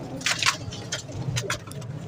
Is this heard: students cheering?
no